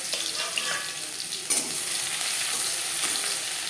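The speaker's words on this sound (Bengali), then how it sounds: "লঙ্কা ভাজা হয়ে গেছে, দিয়ে দেবো রসুন।" Crushed garlic hits hot oil already frying chillies, a sudden louder crackle bursting out midway, then settling into a dense, steady sizzle close by.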